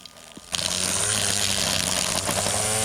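Cheap battery-powered string trimmer with a flower guard, cutting grass and weeds around flowers: a brief quiet knock, then the whine spins up sharply into a steady buzzing hum with a slight rise and fall as it cuts.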